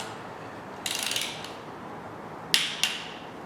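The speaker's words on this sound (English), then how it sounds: "So we're gonna tighten this down in a spiral, just like we were doing before." A hand ratchet clicks in short bursts while tightening oil pan bolts in a spiral pattern on an LS LM7 5.3L V8 engine, with one rapid run of clicks and two brief later strokes, close and clear.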